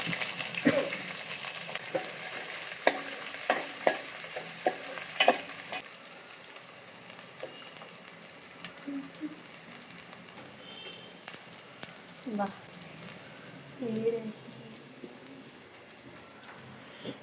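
Onions and green chilies fry in a pan with a steady, close sizzle, loud at first and then settling softer, with faint stirring knocks and scattered background sounds and no talking.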